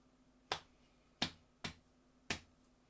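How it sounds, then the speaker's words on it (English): Four sharp, separate claps ring out at a live pub quiz, spaced irregularly across a few seconds over a quiet room. "I like the clapping going on, ladies."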